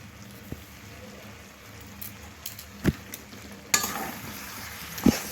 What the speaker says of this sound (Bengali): ভালোভাবে মিশিয়ে দিলাম।